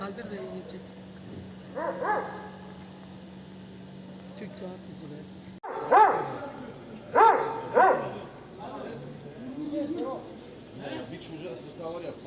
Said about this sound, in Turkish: başıboş gezen köpekler vatandaşları tedirgin ediyor